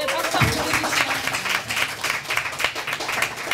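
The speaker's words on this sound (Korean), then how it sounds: "박수 한번 주시죠" Audience applause at a live book forum talk show in a hall, steady clapping from a crowd lasting a few seconds, with a voice briefly audible at the start.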